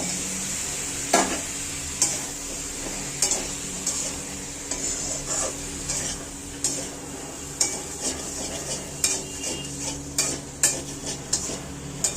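Potato pieces sizzle in a pan of spices and Kashmiri chili powder while a spatula stirs them, giving a steady frying hiss broken by regular scrapes and clinks against the metal.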